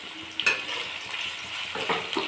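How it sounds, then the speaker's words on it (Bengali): Garlic paste hits a hot pan of browned chopped onion and fries with a steady soft sizzle, while a few light scrapes and taps from stirring come through close by. No one speaks. "রসুন বাটাটা দিয়ে দিলাম,"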